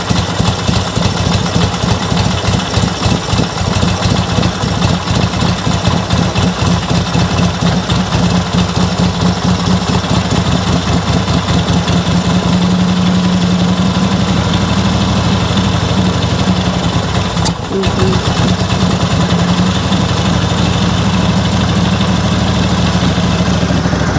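A 1958 Harley-Davidson Panhead motorcycle engine idles loudly and close by, a steady, rapid loping thump running unbroken for over twenty seconds with no voices.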